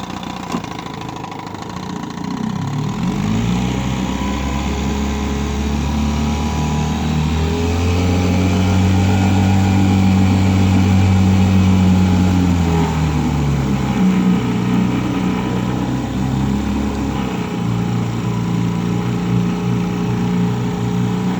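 A 1970 Evinrude Fisherman 6hp outboard motor is pulled into life and settles into a loud, close, smooth running putter, rising briefly in pitch mid-run before easing back to a steady idle, with no talking.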